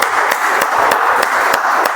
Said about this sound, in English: Let's give a last huge round of applause again